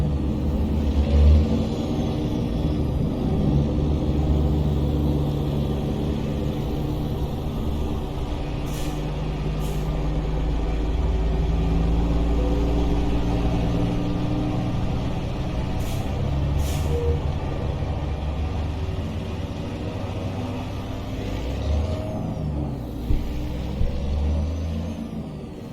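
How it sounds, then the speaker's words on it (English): Truck engine hauling a yacht on a trailer out of Key Largo, a steady heavy low rumble with shifting engine tones, occasional air-brake hisses and pulling under load. "I can feel the weight now on the truck."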